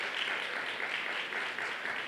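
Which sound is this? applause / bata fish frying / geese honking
applause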